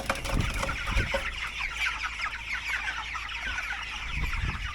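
Flock of about a hundred broiler chickens at feeding time, dense continuous clucking and chattering from many birds at once, close and noisy throughout.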